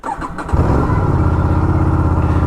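Aprilia RS 457 motorcycle fitted with a GPR exhaust and DB killer starts up, cranking briefly before settling into a steady, loud idle with a throbbing low rumble close by.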